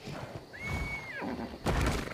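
Zebra (Equus) neighing in the mobile game ARK Mobile, a single drawn-out whinny with a steady high tone that drops off at the end, then a burst of louder noise and movement, with no talking.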